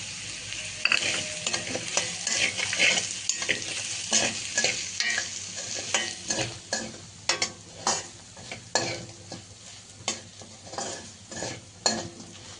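Chicken frying in a pan with chili powder and garam masala, a steady close sizzle broken by repeated scraping stirs that come in a loose rhythm, with no talking.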